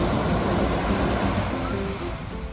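Waves rolling onto the rocky beach at Positano, Italy, a loud, continuous wash of surf that stays steady throughout, with no voices.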